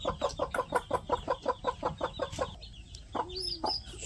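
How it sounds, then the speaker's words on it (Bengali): Chickens cluck in a quick run of about a dozen rhythmic calls near a village coop, a young chick loose outside it, then a short higher chirp follows. "মা তোমার মুরগির বাচ্চা একটা বাইরে বেরিয়েছে"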